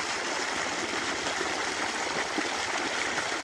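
Water from a buried tubewell pipeline pours into a farm field in a steady, continuous rushing gush, close and fairly loud, with no voices.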